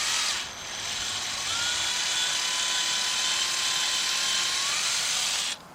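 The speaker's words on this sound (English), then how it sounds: "Let's get this drilled out" A steady high-pitched power drill whines continuously for several seconds, loud and close, drilling out a part on a 2006 Chevy Cobalt 2.2, cutting off abruptly at the end.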